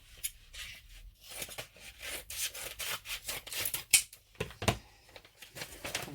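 Paper envelopes being handled and opened up close, with a steady run of rustling, rubbing and crinkling, and occasional sharper tearing scrapes.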